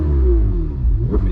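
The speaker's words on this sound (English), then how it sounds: "you can hear the engine, hear the roar of the Ferrari" Ferrari 488 Spider engine revving loudly up close while the car sits in neutral, a steady deep roar with rising and falling harmonic sweeps and a sharp blip near the end.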